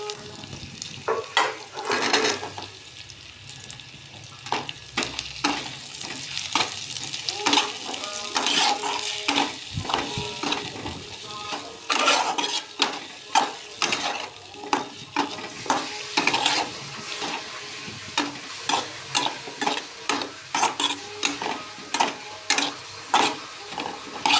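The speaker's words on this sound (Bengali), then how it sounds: "মশলাটা কষানোর পর কেটে রাখা আলুটা দিয়ে দেবো" Potatoes fry and get stirred into a spice masala, with a steady sizzle and frequent sharp, close scrapes and clinks of a spatula against the pan in an uneven rhythm.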